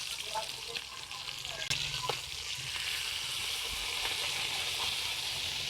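Marinated daing na bangus, dried milkfish, sizzles steadily in hot oil, a continuous bright crackle with a few sharper pops and a faint knock of a utensil partway through.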